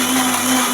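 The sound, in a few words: mixer grinding coconut, peanuts and tomato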